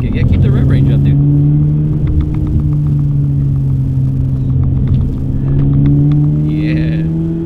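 Toyota GR86 engine held in second gear at high revs, a steady loud drone with a strong low tone running throughout from inside the moving car.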